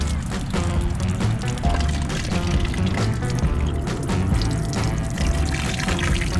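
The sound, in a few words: water running from a faucet while drinking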